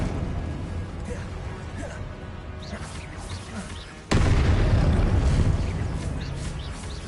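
In a Hogwarts video game, a Confringo blasting spell sets off a sudden loud, booming explosion midway, with a rumbling roar that lingers after it over a quieter, busy background.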